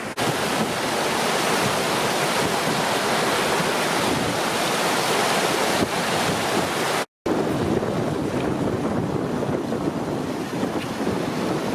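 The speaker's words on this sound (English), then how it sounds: "as I come up this stream, this brook" A brook flowing on Dartmoor, a steady, loud broadband rush of water close by, continuous throughout with a momentary dropout near the middle and some wind buffeting the microphone.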